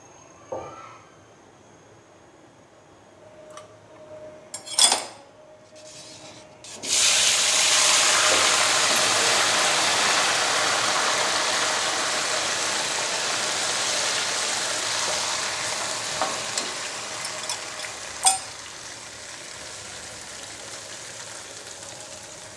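Makhandi halwa is stirred and roasted in a pan: after a few knocks, a loud, steady sizzling hiss sets in and carries on with occasional scraping taps.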